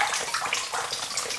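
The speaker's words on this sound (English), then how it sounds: "With water that's just dripping in. It's almost deafening." Water dripping and trickling steadily into a flooded old coal mine, a dense, continuous hiss of splashing that fills the enclosed space and stays fairly loud throughout.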